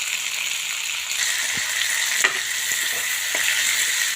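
Grapes sizzle in hot oil in a pan for a grape curry, a steady broad frying hiss with a few soft clicks of stirring, close and continuous throughout.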